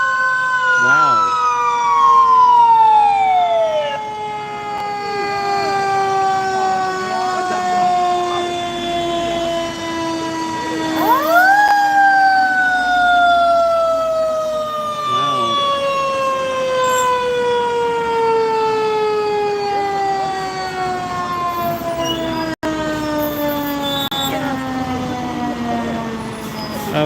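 A Los Angeles Fire Department ladder truck's siren wails loudly and close by, sweeping down in long repeated cycles that restart partway through, over steady street noise.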